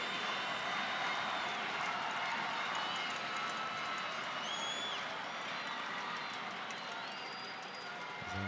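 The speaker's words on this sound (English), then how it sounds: "The crowd excited. You can hear them say, Puerto Rico, Puerto Rico." Stadium crowd at a Puerto Rico vs Anguilla World Cup qualifying football match, a steady distant roar of fans with scattered claps and cheers, the chant blending into continuous broadband noise.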